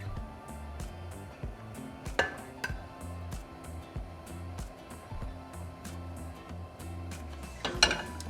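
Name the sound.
spoon skimming foam off simmering beef broth in a pot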